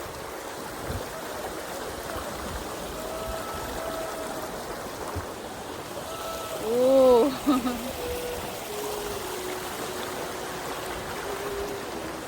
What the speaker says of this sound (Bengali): নদী কল কল করে বয়ে চলেছে